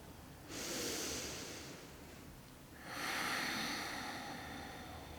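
A person in a yoga pose takes a deep breath, a soft airy inhale followed by a longer, louder exhale, close and quiet with no talking.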